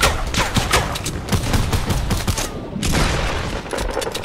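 Rapid shotgun and gunfire blasts in a Fortnite or Apex battle-royale match, dense overlapping booms and cracks in a loud, continuous barrage with a brief lull midway.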